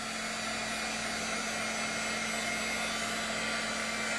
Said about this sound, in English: With this heat gun